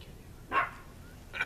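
A dog named Izzy lets out two sharp barks inside a classic truck restoration shop, the first louder and fuller, the second shorter and a little fainter, with a quiet gap of room noise between them.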